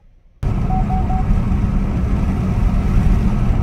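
A 2017 Impala Premier, fresh from a transmission install, accelerates on a test drive, its steady engine and road roar rising abruptly from near silence and holding loud and constant.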